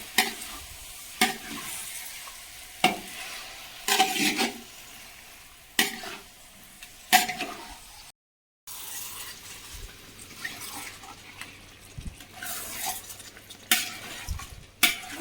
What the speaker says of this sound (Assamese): লাহে লাহে ইয়াতে ল' ফ্লেমত মই এতিয়া ভাজি থাকিম